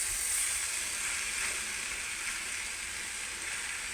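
Coriander powder frying in a pan of curry as it is stirred, giving a steady, close, continuous sizzle and hiss with no voices.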